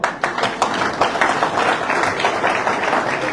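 An outdoor crowd at a political rally in the village of Sarnaghbyur applauds, a loud, sustained burst of many hands clapping steadily throughout with no voices over it.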